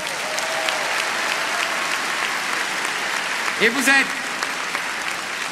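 A rally crowd in Cannes applauds in a dense, continuous roar of clapping, with a brief voice cutting through partway and a faint cheer near the end.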